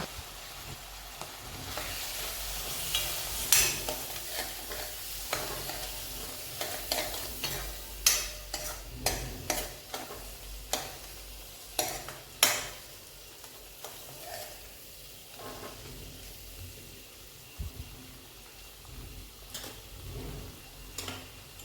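A spoon stirs roasted gram flour into a cashew and kantola (spiny gourd) curry in a pan, giving repeated scraping strokes and clinks over a soft sizzle, close and steady with no talking.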